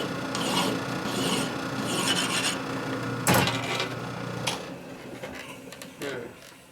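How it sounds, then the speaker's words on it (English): A cutting tool chamfers the edge of a metal part spinning on a lathe for a 1957 Harley-Davidson Panhead cylinder-head conversion. Rasping, scraping strokes come in repeated bursts, with one sharp metallic knock midway, then the cuts fade toward the end. "Okay, let me chamfer that edge right there."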